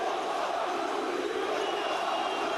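A basketball arena crowd roars and applauds continuously as Jonathan Motley heads to the bench during a Fenerbahçe Beko versus ASVEL EuroLeague game, a dense wash of cheering with no break.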